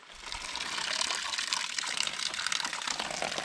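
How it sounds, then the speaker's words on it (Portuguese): Water gushes hard from a ranch tap once air is bled from the line, a loud, steady, close-up rush of spray that holds without a break. "tirando o ar da primeira torneira"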